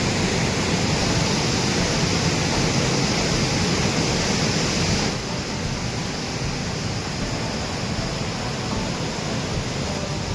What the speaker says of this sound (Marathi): इथे समोरच छोटासा असा एक धबधबा आता आपल्याला पाहायला मिळतो।